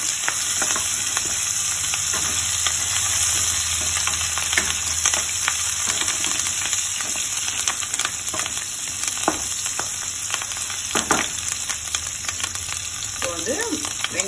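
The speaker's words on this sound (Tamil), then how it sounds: "நல்லா வதக்கிக்கோங்க அந்த பூண்டை இந்த பச்சை ஆட போகிற வரைக்கும்" Garlic sautéing in oil in a pan for Chettinad crab masala, a loud continuous sizzle broken by frequent scraping stirs of a spoon against the pan, with no one talking.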